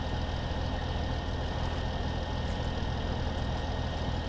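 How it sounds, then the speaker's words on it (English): Fendt 930 tractor engine idling in Farming Simulator 2017, a steady, continuous low rumble with broadband mechanical noise, no talking over it. "we really should have turned the tractor's engine off"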